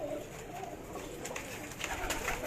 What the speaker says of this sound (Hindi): ये बाजराई और सिल्वर बाजराई कबूतर हैं